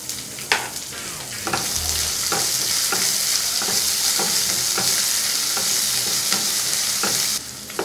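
Chopped onion and a small cut dry red chili frying in a pan for bread masala dosa, a steady loud sizzle with sharp stirring scrapes and clinks recurring every second or so, no voices.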